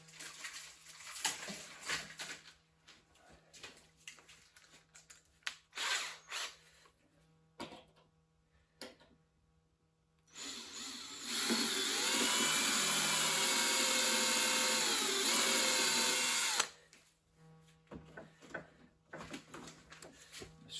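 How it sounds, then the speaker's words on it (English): A loud, steady whining power drill bores holes in a wooden box for about six seconds, preceded and followed by scattered knocks and handling noises close by. "Let's drill a couple of holes, get those in place"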